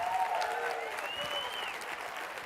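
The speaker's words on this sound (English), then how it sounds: "Give them a big round of applause." A short burst of audience applause at a live summit event, dense and even, with a faint tone sliding through the crowd noise.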